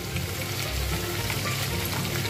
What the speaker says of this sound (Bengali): 5-6 কোয়া রসুনও সাথে রয়েছে, পেঁয়াজের সাথে দিয়ে দিলাম। একটু লালচে ব্রাউন করে ভেজে নেব আমি।